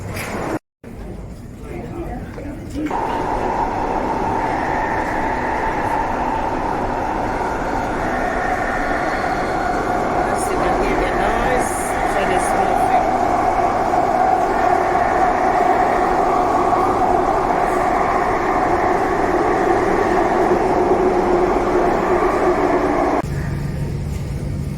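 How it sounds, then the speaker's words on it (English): Ride inside a London Underground Tube train near Canary Wharf, with a steady loud rumble and roar of the moving carriage lasting most of the way before the sound cuts off near the end. "So I'll jump into the train now."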